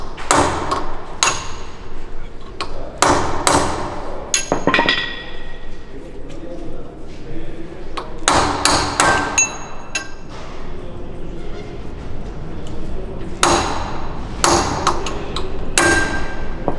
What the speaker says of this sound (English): And to nudge it out, you just give it a bit of a tap,